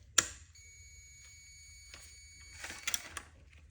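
A sharp electronic beep sounds once from a Whirlpool refrigerator's control, followed by some soft clicks and rustling nearby.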